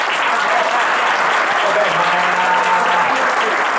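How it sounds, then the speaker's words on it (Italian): Audience applause at the Premio Santa Chiara award ceremony honouring Claudio Cecchetto, a dense, steady burst of clapping from a large crowd filling the whole span, with a faint voice briefly audible underneath. "faremo fare tanti applausi. Questa era una prova generale"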